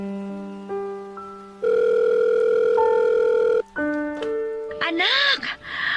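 Telephone call tones heard loud and close, a sequence of steady electronic ringing and dial tones, ending in a brief voice.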